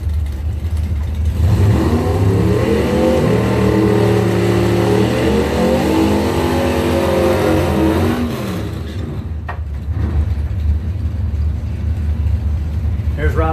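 Drag racing cars, a Mopar against a Chevrolet at a drag strip, roar as they accelerate hard, with engine pitch climbing through gear changes for about eight seconds before dropping away, under a track announcer's voice.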